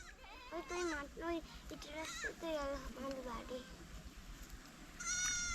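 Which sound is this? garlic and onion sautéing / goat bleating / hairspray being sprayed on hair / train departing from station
goat bleating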